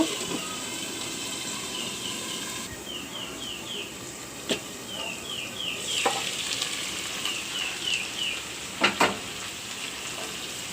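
Fish roe fries under a lid in a covered pan, giving a steady soft sizzle with brief crackles and a few sharp clinks of the lid or utensil throughout; no one speaks.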